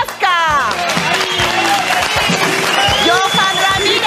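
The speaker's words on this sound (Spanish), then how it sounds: "le vamos a dar un fuerte aplauso" Studio audience clapping and cheering for six contestants on a Peruvian TV impersonation show, a steady crowd wash under music and host talk.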